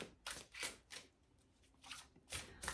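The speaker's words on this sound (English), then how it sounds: "let's shuffle the cards a few more times" Tarot cards are shuffled in several quick riffling bursts separated by short pauses, close and soft.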